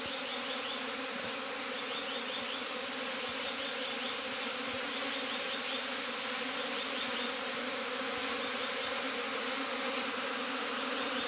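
A honey bee swarm buzzes continuously at a hive in a mountain setting, a dense, steady drone of many wings that stays close and loud throughout with no voices.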